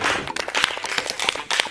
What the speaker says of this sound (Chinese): 先给他们鼓掌， 给自己鼓鼓掌